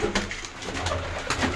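Pigeons cooing inside a home coop as the birds file out, several soft throaty coos close by over a faint room hum, with light flutters between calls.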